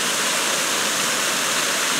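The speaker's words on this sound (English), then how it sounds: "I'm going to do my reveal for you folks with this beautiful waterfall in the background" Lost Creek Falls in winter pours in a steady, dense rushing roar, constant and close, with no voices over it.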